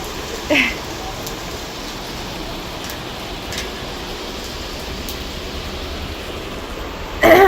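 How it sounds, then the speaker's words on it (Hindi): Heavy rain falling outdoors near household plants: a steady, dense hiss of rainfall throughout, with a voice briefly at the start and end. "देखो कितनी ज़ोर से बारिश आने लगी है"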